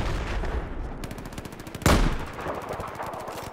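Rapid automatic rifle fire from an M4 in Battlefield 4 on the Hainan map, a dense, loud stream of shots with a sharper close blast near the middle, continuing steadily without talk.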